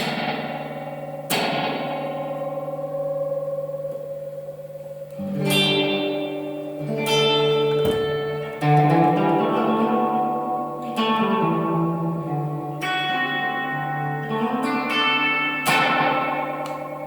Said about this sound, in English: Now you can turn up the repeats and get this cascading thing that ultimately self-oscillates.